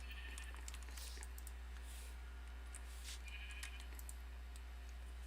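Sheep bleat repeatedly in a Minecraft modded world, short cries scattered over a steady low hum and faint clicking, with no talk.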